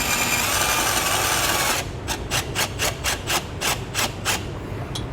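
Self-tapping screw driven into doubled-up vehicle body metal on a 2021 Chrysler while grounding a Curt T-Connector wiring harness, a steady loud whir then a rapid train of about ten rhythmic ratcheting bursts.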